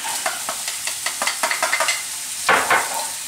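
Onions and garlic hit hot spicy oil over medium-high heat and are stirred, giving a steady close sizzle broken by a rhythmic run of scraping strokes and a louder burst near the end.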